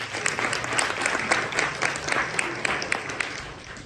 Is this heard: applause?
yes